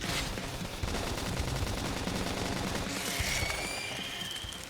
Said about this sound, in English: Chat, we're just shooting.